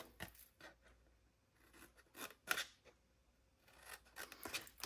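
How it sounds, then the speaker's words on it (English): Scissors snip score lines on a paper treat box in several short, quiet, crisp cuts spaced a second or so apart, with light rustling of paper between them. "on this side here with these 2 score lines, you're gonna snip both score lines"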